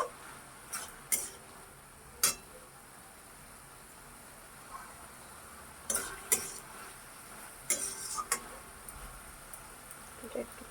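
A spatula clinks against a pan while a ground ginger, cumin and chili spice paste fries for bottle gourd and prawn curry. Sparse, sharp scrapes and taps sit over a faint, quiet background.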